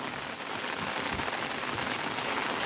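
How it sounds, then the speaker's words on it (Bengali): Heavy rain pours steadily at a riverside spot on the Kaveri at Mahadevpura in Mandya, a dense, even hiss of drops striking surfaces with no break. "এত বৃষ্টি হচ্ছে।"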